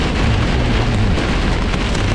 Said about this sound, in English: Oh yeah, we got hail. We got hail.